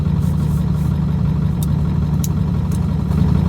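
A diesel truck engine idles steadily on an Arctic ice road, a loud, deep, constant rumble heard close from inside the truck with a few faint clicks and no speech.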